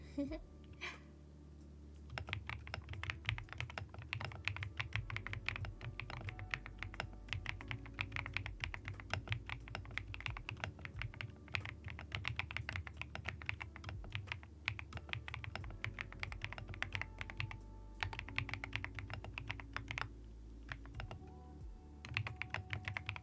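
Steady, dense typing on a thocky Marshmallow mechanical keyboard with custom keycaps, close and continuous with deep, rounded keystrokes for the whole stretch, and a faint voice now and then.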